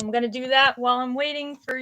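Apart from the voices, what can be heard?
None of the usual background noises is heard.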